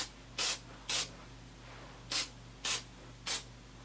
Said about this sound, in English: spray a little bit of case lube into the body of the die